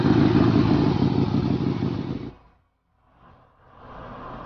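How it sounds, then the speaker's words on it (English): A Ferrari 125 with a 125cc-per-cylinder V12 making 72 brake horsepower roars loudly and steadily before cutting off sharply. A quieter engine sound then swells back in. "The roar of the V12 became a"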